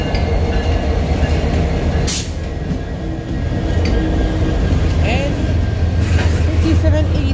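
A CN or CP intermodal freight train rumbles past steadily in Dorval, with low, continuous rolling noise and occasional metallic squeals, while a voice talks over it.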